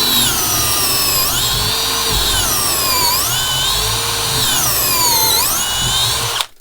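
A Parkside Performance 12V drill running on a 4Ah battery bores steadily, its loud, close motor whine dipping and rising in three repeated cycles as the bit bites, then cutting off abruptly at the end.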